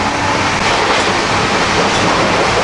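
Loud, steady rumble of a moving train heard through an onboard toilet, with rhythmic clatter of wheels on track, roaring continuously and close, with no voices.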